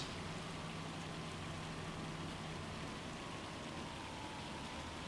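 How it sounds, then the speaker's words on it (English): Hail pelting down in Farming Simulator 25 on a Missouri farm map, a dense, steady hiss of falling ice rattling on surfaces, constant and even throughout with no talk over it. "Oh, hail, that's not good."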